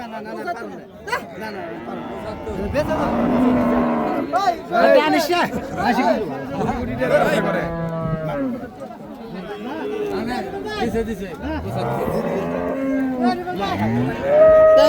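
Cattle moo repeatedly amid a busy crowd at a Qurbani (Eid) cattle market, with people chattering and calling out close by throughout.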